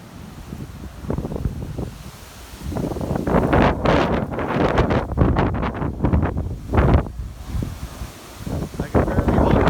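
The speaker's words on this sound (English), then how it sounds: "Apparently it gets windy around here, James." Strong wind storm in Kamloops buffets the microphone in heavy, roaring gusts that rise and fall, loud and close throughout.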